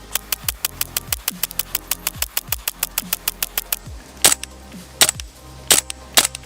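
A Vorsk VMP-2MD airsoft gas blowback rifle shooting through a magazine: a fast, regular string of sharp cracks, then a few louder, spaced shots near the end, close and loud.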